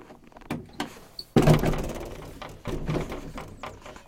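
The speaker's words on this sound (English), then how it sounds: "Here, you can open the doors a little bit wider" Car doors swinging open wide, a sharp thud followed by lingering clunks and rattles of the door hardware, close and fairly loud, with softer knocks before and after.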